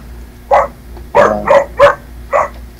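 A dog barks nearby in five sharp, loud yaps: one alone, then a quick run of three, then a last bark after a short pause.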